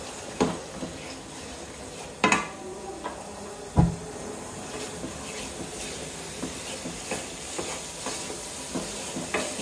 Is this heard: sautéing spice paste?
yes